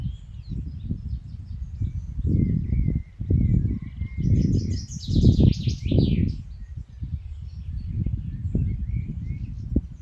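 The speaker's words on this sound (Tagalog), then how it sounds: "yung mga ibon ang ingay-ingay kantahan na sila kasi ayan nasa ilalim tayo ng malaking puno" Many birds in a large tree overhead chirp and twitter faintly near a lake, a busy chorus above a constant low rumbling of wind or handling noise close by.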